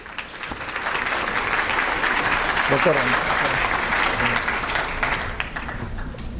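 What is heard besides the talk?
audience applause welcoming a speaker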